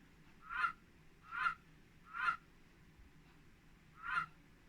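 A goose honks outdoors four times in an even rhythm, each call short and fairly distant over a low, steady background murmur.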